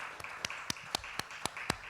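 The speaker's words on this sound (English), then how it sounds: "The audience is applauding you." Sparse, faint claps from an audience at a cinema lecture, about eight evenly spaced single claps falling in a steady slow rhythm over a quiet room, heard from a distance with no talk.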